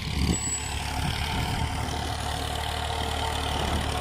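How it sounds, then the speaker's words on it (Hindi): A 1984 Massey Ferguson MF 240 tractor engine idles steadily nearby, a constant low rumbling drone with no voices over it. "MF 240 1984 मॉडल ट्रैक्टर है।"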